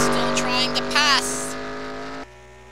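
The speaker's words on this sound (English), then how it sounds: "William Byron still trying to pass." Race cars roaring around a road course in a 2018 showdown heat, engine notes rising and falling as one car tries to pass another, loud and continuous beneath an announcer's commentary.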